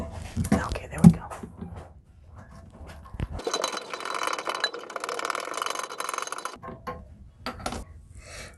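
A screw being worked out of a porcelain toilet tank, with a dry grinding, ratcheting scrape lasting a few seconds, quiet and close, between bits of soft talk and light handling clatter.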